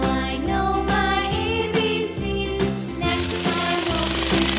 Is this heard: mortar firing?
no